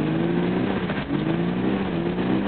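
Drift car engine at a drifting event in Weeze, 2009, revving hard and holding a loud, sustained mid-pitched drone with a brief dip in the middle, close and without talk.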